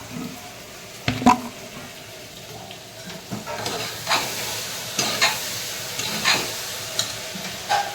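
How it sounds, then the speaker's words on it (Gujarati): Brinjal curry is tempered in hot oil for a country-style farm lunch, sizzling continuously up close while a spoon scrapes and stirs the pan in repeated, fairly regular strokes. "હું વઘારું છું રીંગણાનું શાક"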